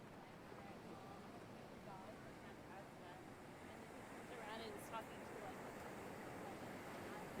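Ocean waves breaking near a surf pier, a steady broadband rush of surf with wind noise and a slight swell toward the end, heard from a distance.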